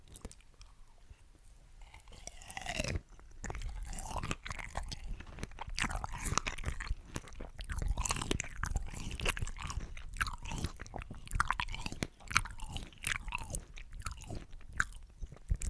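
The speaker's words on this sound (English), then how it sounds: "Let's dunk this strawberry. Have it all nicely covered in that beautiful Lind chocolate." Close, quiet chewing and crunching on a strawberry dipped in Lindt chocolate, with soft bites and mouth sounds repeating irregularly and no talking.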